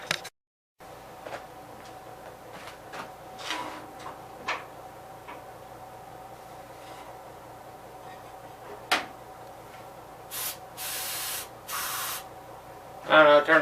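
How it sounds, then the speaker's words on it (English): Carb cleaner is sprayed from a can into a snow blower engine in a few hissing bursts near the end, after scattered clicks, taps and handling knocks in a quiet space. "Let me get a can of carb cleaner once, see if it'll hit on that"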